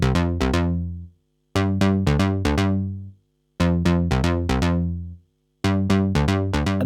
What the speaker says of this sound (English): The next bass sound that you hear for the majority of the song is a much tighter sound.